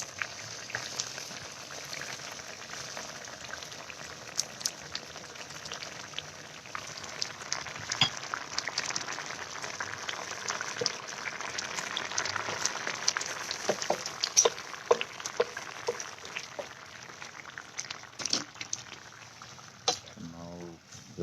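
Green mango relish simmering in water in a non-stick pan, a steady soft bubbling and sizzling with scattered pops, fairly quiet and close, continuing throughout without pause.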